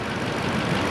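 A Lexus GX460 engine revs loudly and steadily, a dense low roar holding for just under a second with no pauses.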